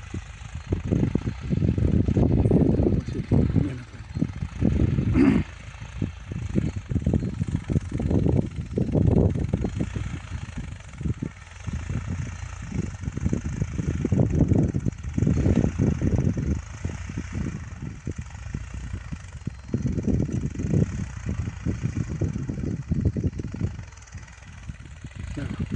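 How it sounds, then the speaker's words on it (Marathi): A tractor engine runs steadily on a farm field, its loud, rough mid-range rumble throbbing continuously close to the microphone for the whole stretch with no break. "हे बघा ट्रॅक्टर कसं चालू आहे"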